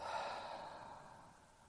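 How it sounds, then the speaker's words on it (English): A soft, slow exhale through the mouth during a guided breathing meditation, a faint breathy sigh that fades out gradually and is heard alone. "and out through the mouth."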